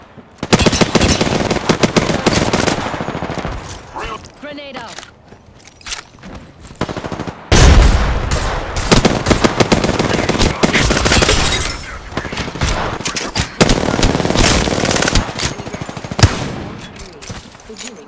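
Rapid automatic gunfire rattles almost nonstop in the video game Apex Legends, loud and dense, with brief lulls and bursts of breaking and impact noise; in-game character voices speak over the shooting.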